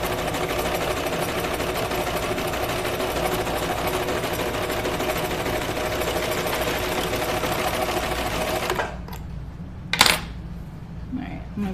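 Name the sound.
cover stitch sewing machine stitching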